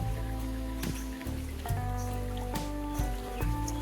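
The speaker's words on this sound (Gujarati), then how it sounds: "રાત્રિ દસ વાગ્યાનો વરસાદ ચાલુ છે" Rain falls steadily in Balisana village, a continuous wash of patter mixed with a steady tonal hum and a few sharp knocks.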